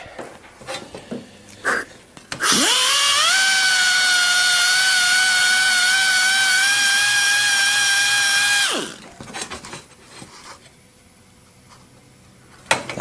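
A high-pitched power sander whines steadily for about six seconds while sanding out a scratch on a Chevy, then stops, with quieter handling sounds before and after.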